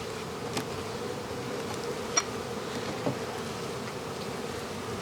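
A steady, close drone of many honey bees buzzing in a hive during winter, continuous and even, with a few faint clicks and knocks.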